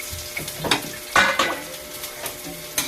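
Onion and garlic sizzle in a pan for a vegetable dish, with close, bright frying hiss and a few clinks and scrapes of a utensil against the pan.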